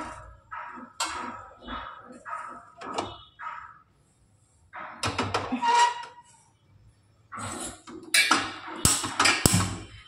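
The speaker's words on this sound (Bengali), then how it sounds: "হাঁড়িটা বসিয়ে দিই, ভাতের হাঁড়িটা।" Metal rice-cooking pot set onto a kitchen stove, with a series of close clanks, scrapes and knocks in bursts separated by short quiet gaps, sharper clattering toward the end.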